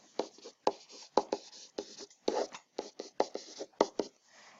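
Pen or pencil writing out a polynomial division by hand, a close run of short scratchy strokes and taps in an uneven rhythm, alone with no talking.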